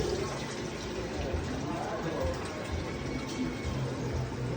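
A slush machine drained of its liquid, giving a steady, close rush of pouring and gurgling fluid that runs without a break.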